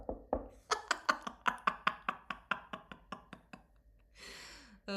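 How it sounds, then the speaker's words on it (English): A quick, steady run of about fifteen sharp knocks on a wooden surface, close and fairly loud, followed by a breathy exhale. "Knock on wood."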